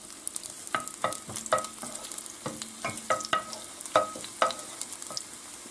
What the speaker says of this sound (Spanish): Lo primero que tenemos que echar son los dientes de ajo. Y lo dejamos que se fría un poquito.